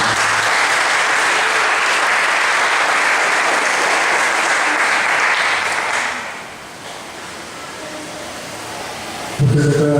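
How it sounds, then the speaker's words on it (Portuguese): A church congregation at a Sunday service applauds in a loud, dense roar of clapping that fades down near the end before a sudden thump. "Agora aplauda o Senhor."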